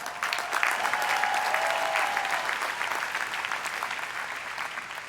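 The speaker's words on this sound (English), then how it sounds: "please show your appreciation with another round of applause" Audience at the 136th USC commencement ceremony breaks into sustained applause, a dense wash of many hands clapping in a large venue, steady and loud throughout and easing slightly toward the end.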